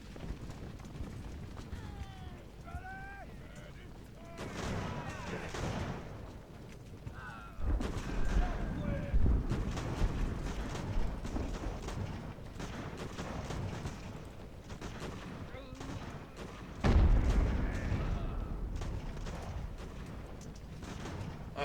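Sailing ships trade cannon broadsides in the Ultimate Admiral: Age of Sail strategy game, with distant booming volleys and rumbling bursts over a low battle ambience and no talking.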